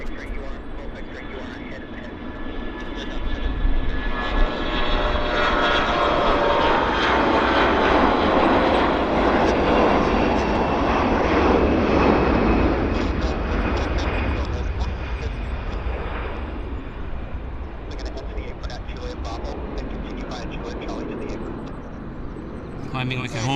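A CRJ regional jet departs from Vancouver Airport, its engine roar building into a loud, broad, sustained rush with a high whine that holds steady and slowly fades, while people talk over it.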